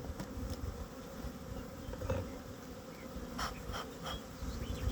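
Dense, steady buzzing of many honey bees close by during a February hive inspection, a continuous insect hum with a few louder passes near the microphone.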